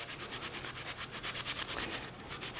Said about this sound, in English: Let me grab my grater. And just going to grate it directly in there.